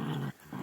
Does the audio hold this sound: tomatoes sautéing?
no